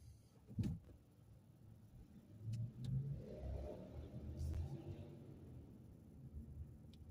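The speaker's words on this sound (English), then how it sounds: "That is one loud motorcycle." A loud motorcycle engine revs and roars nearby, rising and then holding a rumbling drone amid street noise in downtown Austin, Texas, on Christmas Eve.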